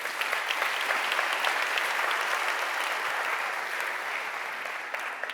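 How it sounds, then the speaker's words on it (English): Applause fills a Spring Framework conference keynote hall, a full crowd clapping in a thick, even roar that holds steady, then eases slightly toward the end. "Big round of applause for those guys"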